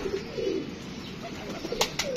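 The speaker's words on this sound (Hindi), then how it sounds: "खोलते जाएं कबूतर का पर को" A domestic pigeon gives soft, low cooing calls close by, with a couple of sharp clicks or wing flutters near the end.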